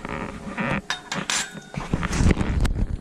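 A metal fork scraping and clinking against a dish while mixing freeze-dried eggs, close and irregular with brief taps and rubbing strokes.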